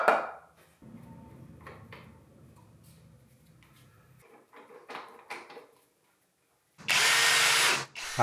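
A power drill whirs in short bursts while screws are driven into a butt-jointed wooden frame for a mitre saw station, with workshop clicks and handling noises between the runs.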